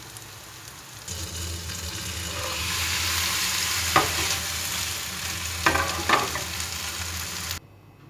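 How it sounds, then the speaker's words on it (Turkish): A Turkish herb pan bake sizzles loudly and continuously as it is flipped with a lid, with a few sharp clinks and scrapes of a utensil against the pan, before the sound cuts off abruptly. "bir kapak yardımıyla çevirip arka tarafını kızartalım."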